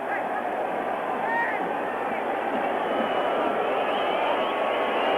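Football stadium crowd at the 1986 World Cup match between Argentina and Italy, a dense, continuous roar of many voices, steady and loud without clear peaks.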